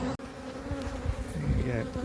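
Honeybees buzzing steadily around an opened beehive during a hive inspection, a dense continuous drone close by with no talk over it.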